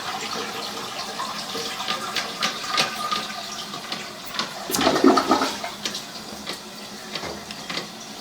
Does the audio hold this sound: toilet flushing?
yes